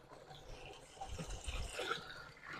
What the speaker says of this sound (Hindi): ये हमारा DC मोटर 3 HP का ये पानी दे रहा है, आप देख सकते हो।